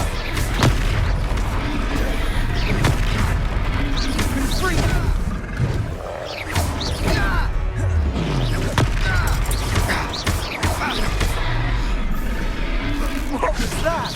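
A deep, booming magical impact from a Descendo spell in the Hogwarts Legacy video game, part of a dense, roaring battle mix with rumbling blasts and creature roars that continues loudly throughout.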